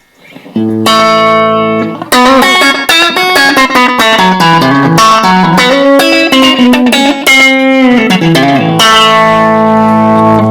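A Telecaster electric guitar played through a small three-watt amp with short reverb, ringing out in loud sustained chords and single notes with a brief tail.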